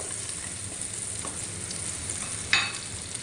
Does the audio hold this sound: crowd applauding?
no